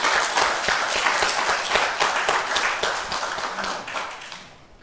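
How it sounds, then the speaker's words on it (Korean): A church congregation claps together during a Sunday morning worship service, loud and close at first, then gradually fading toward the end. No speech is heard. "감사, 찬양, 영광의 박수 올려드리겠습니다"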